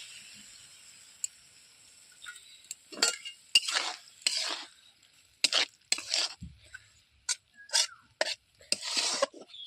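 A curry of red amaranth stems stirred in a pan, with a series of scraping and clinking spatula strokes in uneven rhythm against a quiet background.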